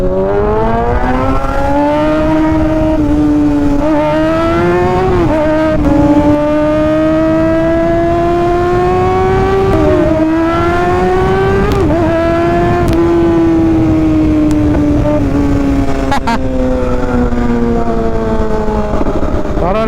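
A motorcycle engine drones loudly and continuously up close, its pitch rising and falling as the rider shifts and accelerates, with wind noise throughout.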